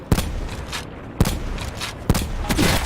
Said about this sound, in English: I was able to get 3 shots off on this guy before he was able to move down to that rock